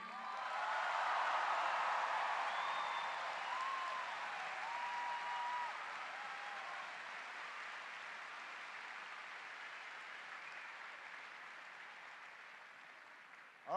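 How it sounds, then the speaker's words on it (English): Sustained applause from a large crowd in the McArthur Court arena for General Tony McPeak at a Barack Obama rally, loudest at first, then holding steady and thinning slightly. "Please give a big round of applause to General Tony McPeak."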